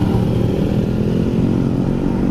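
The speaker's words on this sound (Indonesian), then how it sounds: "gue pakai knalpot Tritek" A motorcycle fitted with a Tritek racing exhaust runs loud and close, a steady throaty exhaust rumble with a slight rev, with no talking.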